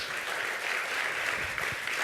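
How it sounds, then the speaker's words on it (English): Audience applause at an opening ceremony, a steady wash of clapping from many hands lasting the full moment, fairly faint and distant. "Remember this kind of applause."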